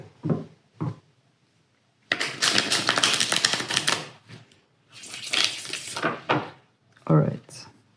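A Rider-Waite tarot deck is shuffled by hand in close, rustling bursts of riffled cards, two short taps first and then two longer shuffles.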